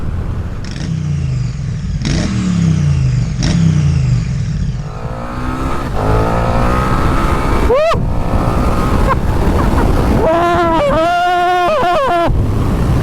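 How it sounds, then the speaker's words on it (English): A 2020 KTM 1290 Super Duke R motorcycle ridden on the road, its engine droning and then revving hard through rising gear pulls, with steady wind rush over the microphone and a brief voice in the first half. "Out and about on the awesome 2020 KTM 1290 SuperDuke R."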